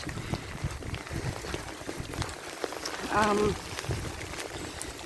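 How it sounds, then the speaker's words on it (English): Freezing ice rain falls outdoors on a farm with a steady patter of drops and irregular close taps, while a voice sounds briefly partway through. "And it is ice rain. And it is friggin' freezing."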